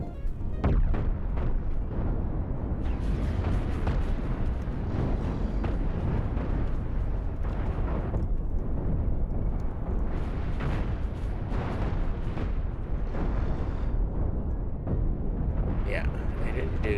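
Missile explosions in the space-combat game Cosmoteer, with built-in ships fighting: a dense, continuous rumble of booms and bursts that runs for the whole stretch, with talk over the top.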